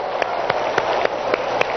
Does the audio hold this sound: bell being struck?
no